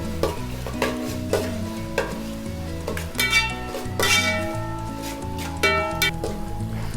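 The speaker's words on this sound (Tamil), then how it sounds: "இஞ்சி பூண்டு விழுது ஆட் பண்ணிட்டு நம்ம நல்லா வதக்கி விட்டுக்கலாம்." Ginger garlic paste sizzles in a hot pan while being stirred for egg rice, with a steady frying hiss and intermittent scraping stir strokes up close, and music playing underneath throughout.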